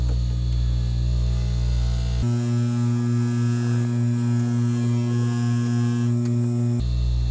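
A dental lab buffing wheel hums steadily while a lower lingual holding arch is polished, its motor tone dropping into a deeper, heavier whine partway through as the appliance is pressed against the wheel, then returning.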